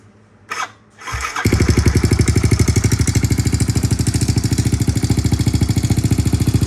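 Kawasaki KLX110L with a big bore kit and new cam fires up after a short crank, then settles into a loud, even, rapidly pulsing single-cylinder idle close by.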